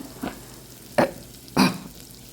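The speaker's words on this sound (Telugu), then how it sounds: "తర్వాత ఉల్లిపాయలు వేసుకుని చక్కగా వేపుతున్నాను" Green chillies and onions fry in oil inside a pressure cooker, a low sizzle under three short scraping bursts of stirring, the last two louder and close.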